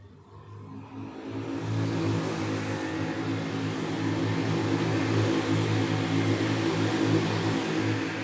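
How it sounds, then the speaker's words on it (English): Racing kart engines rev continuously at a Tillotson T4 Euro Cup race at Lonato, a dense, loud droning buzz of several karts that builds in the first second or two, then holds steady. "A brave move at the inside of turn 5 for car number 115"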